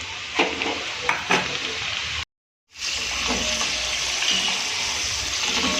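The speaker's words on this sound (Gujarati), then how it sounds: "આ રીતે આપણી ફ્રાઈઝ એકદમ આ રીતે ક્રિસ્પી તળી અને આપણે તૈયાર કરી દઈશું" Steady crackling sizzle of fries deep-frying in hot oil, with a few clinks of stirring near the start and a brief silent gap midway.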